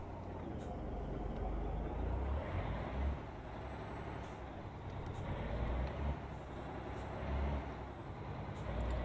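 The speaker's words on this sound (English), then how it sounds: "it just sounds like a truck doing hard work to me" Heavy truck engine laboring steadily in American Truck Simulator, a continuous low rumbling drone that swells and eases slightly, with faint hissing and brief higher tones above it.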